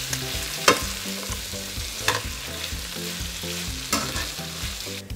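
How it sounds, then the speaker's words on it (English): Cauliflower gnocchi being stirred with sauce in a hot pan: continuous sizzling broken by a few distinct scrapes of the utensil, with background music underneath and no voices. "I'm going to start with that and mix it in."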